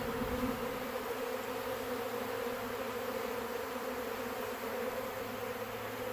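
Thousands of honey bees in a swarm drone steadily all around, a thick, unbroken hum at close range with nothing else heard.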